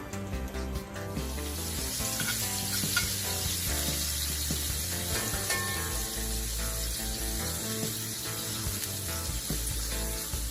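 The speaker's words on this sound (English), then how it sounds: "I'll be cooking my salmon for like 3 minutes on each side" Salmon frying in a pan on a stove at medium heat, a steady loud sizzle and crackle that runs the whole time with no pauses.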